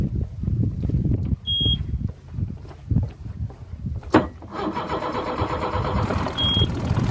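An outboard motor on a MacGregor 26M sailboat cranks and catches with a sharp burst near the middle, then settles into a steady close running drone, with short electronic beeps sounding before and after.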